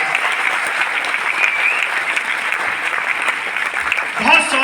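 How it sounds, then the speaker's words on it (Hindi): A seminar audience in Delhi bursts into loud, sustained applause for the company Vestige, a dense, even roar of many hands clapping that carries on for several seconds, with a voice rising briefly near the end. "एक बार वेस्टीज के लिए जोरदार तालियां बजा दीजिए"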